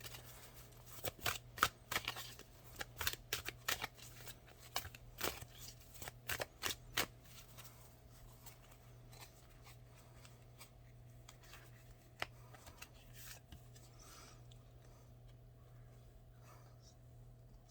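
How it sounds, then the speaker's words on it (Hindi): Tarot cards shuffled and drawn, quick bursts of riffling and flicking cards at close range over a low steady hum, fading to lighter handling and soft rustles later. "सिर्फ 2 कार्ड निकालूंगी मैं।"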